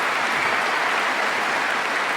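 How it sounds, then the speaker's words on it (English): Sustained, dense applause from an audience at an award speech, a steady wash of clapping at even loudness from start to end with no talking over it. "Can we get them a round of applause?"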